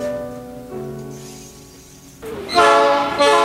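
A freight train rolls past at a rural spot where the old station is gone, its horn sounding in steady sustained tones before loud, close rattling and rumbling of the wagons takes over.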